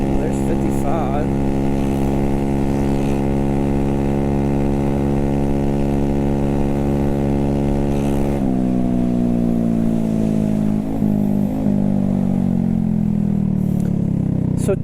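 A scooter engine with about 25,000 miles on it drones steadily at around 50 miles an hour, its pitch shifting partway through as the ride continues, loud and close.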